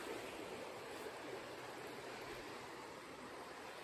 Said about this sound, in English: just listening to that water is awesome